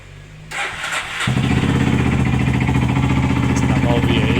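A Yamaha Lander 250 motorcycle engine cranks briefly, then catches and settles into a steady, loud, close idle, with no talk over it.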